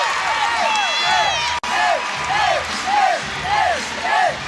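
A college gymnastics meet crowd in an arena cheers and whoops after a floor routine, with high rising and falling shouts repeating over a steady roar, under a commentator's talk.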